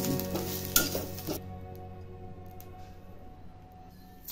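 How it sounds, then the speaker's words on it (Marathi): Coriander being stirred and fried in oil, a close sizzling hiss with scraping for about a second and a half, then dropping away to a faint low simmer. "आता तेलामध्ये कोथिंबीर परतून घ्यायची आहे"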